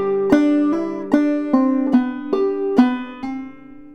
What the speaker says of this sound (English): So I'll just play the first bar of the A part